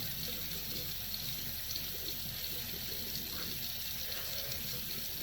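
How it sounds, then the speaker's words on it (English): Water runs steadily from a bathroom tap to lather shaving cream, a continuous soft hiss and splash heard close by without talking. "I just add the water and it's ready to go."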